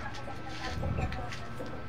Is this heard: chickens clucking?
yes